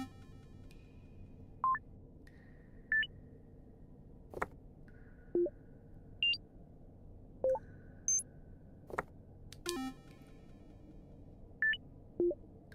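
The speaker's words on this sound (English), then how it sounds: "Everything go beep." Short electronic beeps and blips from the video game Ghost Town Pumpkin Festival, sounding one at a time at irregular intervals roughly every second over a quiet low hum, with no voices.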